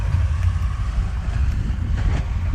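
Tractors grooming a drag strip starting line at a spring nationals race, a steady low engine drone with wind buffeting the microphone, continuous and fairly loud, no talking.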